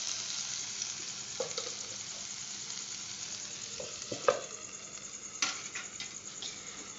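Meat and onions frying in a pot, a soft steady sizzle with occasional sharp clinks and scrapes of stirring, quiet and close, no talking.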